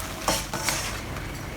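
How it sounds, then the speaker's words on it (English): Prawn heads fry in a pan for a Singapore laksa: a faint, steady sizzle broken by a few light stirring scrapes and clinks, fairly close. "I'm frying the prawns heads first"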